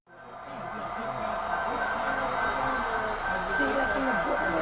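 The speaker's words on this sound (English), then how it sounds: "Look at that train." At a train show in North Haledon, New Jersey, a model train runs along its track with a steady rolling rumble and a faint whine, while the chatter of a busy hall carries on around it.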